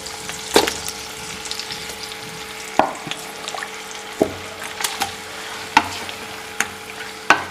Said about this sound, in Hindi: ये मेल्ट हो जाएगा तो फिर हम अपनी चिकन डालेंगे